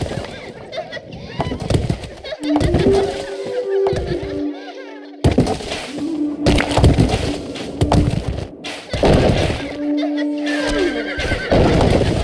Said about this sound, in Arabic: خيولنا جاهزة.